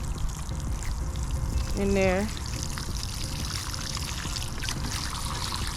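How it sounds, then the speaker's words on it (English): Water is poured from a container into a planting hole dug for a grape plant, a continuous trickling gush running under a brief spoken phrase and steady outdoor background noise. "and then I'm gonna put a little bit of water"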